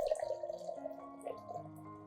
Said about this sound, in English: I will dilute about 1 teaspoon of coffee grounds with 500 milliliters of hot water